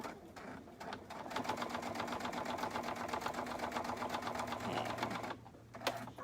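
A sewing machine stitches a seam on a soft fabric Cuddle Cube with a steady rapid chatter that holds for several seconds, then slows and stops, leaving a faint hum and a click.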